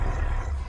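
Minecraft Ravager beast roar from the video game: a short, loud, deep growling roar with a rough, honking undertone, heard alone.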